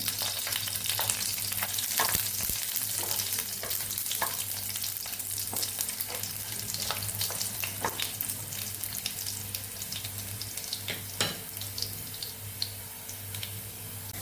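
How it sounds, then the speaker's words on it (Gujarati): Garlic cloves sauté in oil in a pan for a tomato chutney, giving a steady, close frying sizzle with intermittent crackles and stirring scrapes throughout, over a low hum. "લસણનો સેજ કલર બદલાય ત્યાં સુધી આપણે લસણ લસણને કળીઓને સાતળવાની છે"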